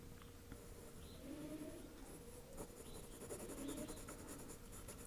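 A pencil scratches softly across paper in steady strokes, close and quiet, with faint bird coos in the background.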